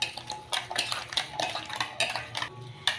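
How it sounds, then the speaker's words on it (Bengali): Semolina mixed with yogurt and water in a bowl: a spoon scrapes and clinks against the bowl in quick, uneven strokes, close and fairly clear. "তো চলো এবার আমি সুজিটাকে ভালো করে মিশিয়ে নিচ্ছি।"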